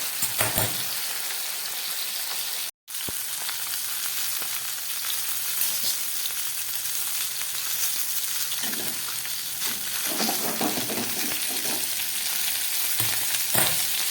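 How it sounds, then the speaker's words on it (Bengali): Small carp fish frying together in a pan over a low gas flame, giving a steady, close, continuous sizzle and crackle throughout, with a brief dropout near the start. "সমস্ত মাছগুলোকে আমি একবারেই ভাজা বসিয়ে দিলাম।"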